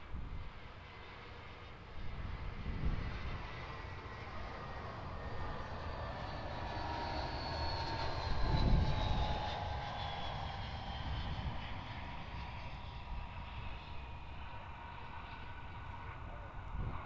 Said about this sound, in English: here's our Airbus A319 of QANTASlink.